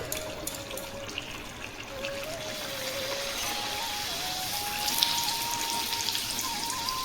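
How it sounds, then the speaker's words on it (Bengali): Luchi, a puffed Bengali flatbread, deep-frying in hot oil, giving a steady, dense bubbling sizzle that holds evenly throughout without pause. "এখানে আমি লুচি ভাজবো"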